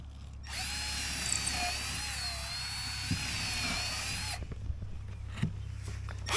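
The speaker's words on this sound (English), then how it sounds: "Start out with a small drill in your template." Small power drill boring through a template into wood, whining loudly at a steady pitch for about four seconds, then stopping with a few clatters and handling knocks.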